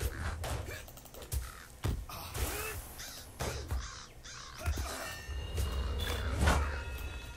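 A crow caws repeatedly in the Lord of the Rings Online (LOTRO) video game, with harsh, loud calls at irregular intervals over game ambience and faint footsteps.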